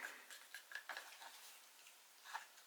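Stirring acrylic paint in plastic cups, faint light clinks and soft scraping taps in a quiet room, irregular and brief.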